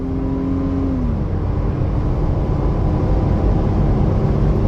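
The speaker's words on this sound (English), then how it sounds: "sometimes you gotta get on the highway to get where you want to go. Let's see how she does at speed." A lifted Toyota FJ Cruiser on air bags drives at highway speed, its engine holding a steady loud drone with a brief rising tone early on, heavy wind and road roar filling the cabin without pause.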